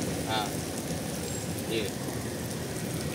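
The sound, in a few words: heavy rain falling in Bidar city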